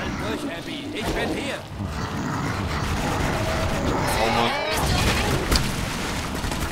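Explosions and combat noise in the video game Clive Barker's Jericho, a dense rumbling boom with crashing debris that swells across the stretch while a player talks over it.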